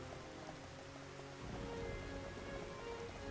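Rain patters steadily on surfaces in Xenoblade, a dense, soft hiss of drops that thickens partway through, with no voices.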